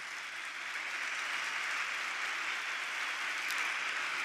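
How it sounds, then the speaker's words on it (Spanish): Sustained audience applause at the end of an interview at the Madrid Economic Forum 2026, a steady dense clapping wash from a crowd in a hall, continuous for several seconds without talk. "Por favor, un fuerte aplauso para Alejandro Entrambas Aguas."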